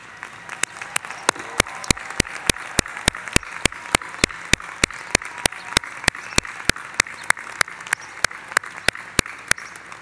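An audience at a graduate diploma ceremony for a business school applauds the standing graduates, a dense, steady wash of clapping with sharp, regularly spaced louder claps running throughout the whole stretch.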